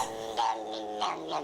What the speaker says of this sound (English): Yes, it's a cat.